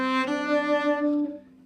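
A bowed cello sustains a single low note with a rich stack of overtones, swelling gently in loudness before fading out after about a second and a half, played alone with no talking.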